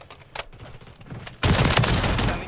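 A sudden sustained burst of rapid automatic gunfire in Modern Warfare 3 erupts loud and close after a quieter stretch of scattered game sounds.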